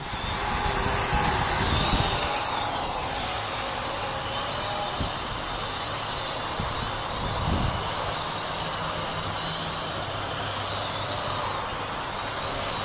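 A helicopter hovers low in strong wind, a steady, loud rotor and engine roar with broad wind hiss running throughout.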